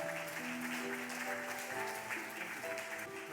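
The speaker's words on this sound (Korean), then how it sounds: "자리에 들어가시는 동안에 박수 하시겠습니다" Church members applaud during a Sunday worship service as honored deaconesses return to their seats. The sustained, even clapping fills the room over soft sustained organ or keyboard notes.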